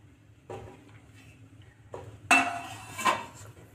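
Metal spoon scraping and clinking in a pressure cooker as mushrooms are stirred with spices, a few separate stirs, the last two louder and sharper, with no talking.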